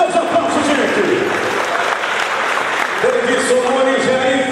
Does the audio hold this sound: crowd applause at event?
yes